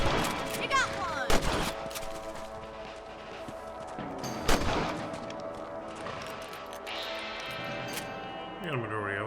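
Rifle shots in Red Dead Redemption while hunting rabbits: two sharp, loud cracks a few seconds apart, under game music and ambient sound, with a faint voice.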